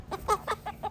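Ready-to-lay pullet hens about 18 weeks old give a short run of five soft clucks close by, with nobody speaking.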